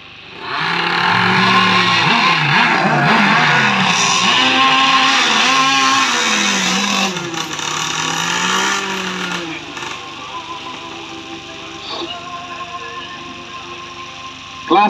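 Engines of several remote control racing boats at a race in Senadin, Miri, whine and rev in overlapping rising and falling buzzes, loud at first and then fading toward a quieter close, with a voice speaking underneath.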